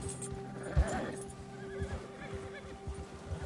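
A horse in Red Dead Redemption 2 gives a short, faint whinny amid rhythmic hoof clops and low game ambience, with a brief thump early on.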